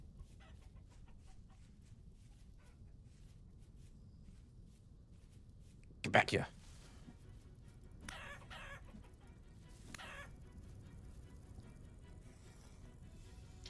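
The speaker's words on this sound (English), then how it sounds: "I hear chickens." Chickens cluck and a rooster crows in the medieval survival game Vintage Story, brief bursts rising midway over a low ambient bed, with someone talking quietly.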